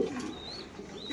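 A racer pigeon coos nearby in one short, soft, throaty call over faint background noise.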